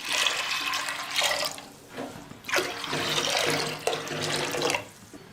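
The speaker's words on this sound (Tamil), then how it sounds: "இப்போ பருப்பு வேகத்துக்கு தேவையான அளவுக்கு தண்ணி ஊற்றிக்கலாம்." Water is poured from a tap into a clay pot of lentils for sambar, several rushing bursts of running water with short pauses between them.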